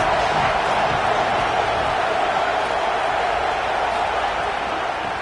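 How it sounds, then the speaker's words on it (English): A steady, dense roar of a football stadium crowd in the College Football 27 video game during an Alabama vs Ohio State match, loud and continuous throughout. "This crowd trying to make life miserable for this offense."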